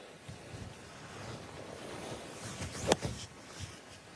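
Wind gusts across an open golf course during live tournament coverage, a steady breathy rush buffeting the microphone with a brief louder gust midway.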